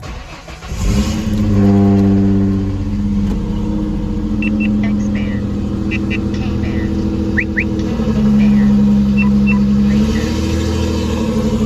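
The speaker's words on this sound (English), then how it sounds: "I think I'll start this video off with a nice cold start out here today" A 1999-2004 Ford Mustang engine cold-starts with a short crank, then catches and settles into a loud, steady idle rumble that rises briefly in revs, with a voice speaking faintly at one point.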